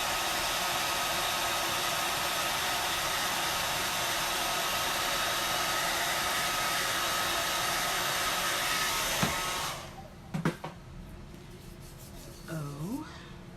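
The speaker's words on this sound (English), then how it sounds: "Blow dry this so you always want to blow dry" A hair dryer blows close and loud for about nine seconds, drying chalk paste on a wooden pumpkin, then cuts off, leaving a few light taps and handling sounds.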